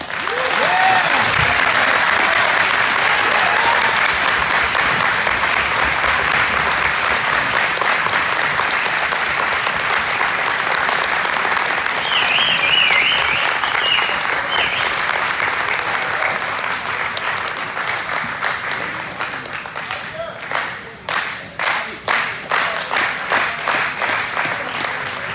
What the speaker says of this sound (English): People are going to be clapping for me, I hope